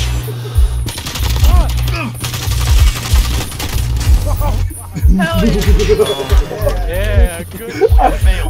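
Modern Warfare video game gunfire rattles in loud, rapid automatic bursts and sharp shots, with someone talking excitedly over the shooting throughout.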